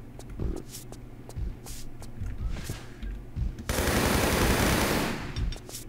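Gunfire in the Tomb Raider III video game comes as a handful of sharp separate shots, followed by a dense burst of rapid automatic fire that lasts over a second, all fairly loud with no speech.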